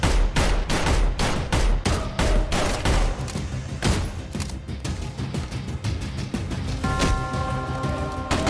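Sustained rapid gunfire fills an action movie battle scene, dense bursts of loud shots and impacts hammering continuously with heavy low thumps, and a faint tonal sound emerging late, with no voices heard.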